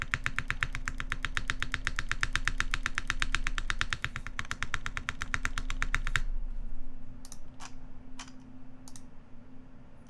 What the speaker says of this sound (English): What switches are these? These are Cherry MX Blacks.